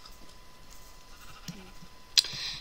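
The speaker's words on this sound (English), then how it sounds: "I do have some sheep down there." A sheep bleats in the Minecraft video game, one short sharp bleat close by over a quiet hiss of game ambience, preceded by a faint softer sound.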